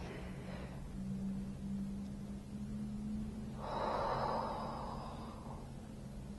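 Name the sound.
deep belly breath drawn in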